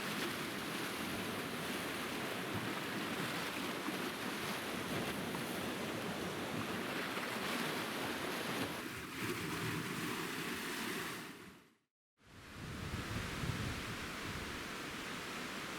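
High waves breaking on the shore of Lake Baikal, a steady broadband surf roar mixed with wind buffeting the microphone. The sound drops out briefly near the end, then returns.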